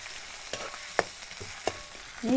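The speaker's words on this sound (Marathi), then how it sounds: "बटाटे त्याच्यात घेऊ टाकून असं तेलात थोडं तळून घेतलं" Potato pieces frying in hot oil for sabudana khichdi, a soft sizzle broken by a few sharp clinks of a stirring spoon against the pan, with the bubbling swelling louder at the end.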